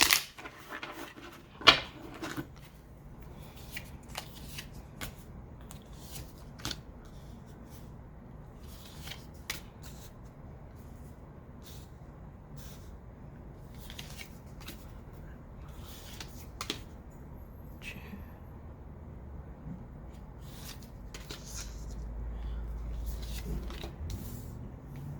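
Quiet, close riffling and flicking of a deck of cards being shuffled, scattered soft snaps and rustles over about 25 seconds with a faint low hum underneath and no talk.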